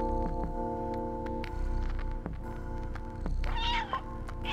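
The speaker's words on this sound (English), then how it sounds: "I just want to listen to cats snoring." Cats meow repeatedly in a video game, several clear, fairly loud calls spaced over a steady droning musical background, with no talking.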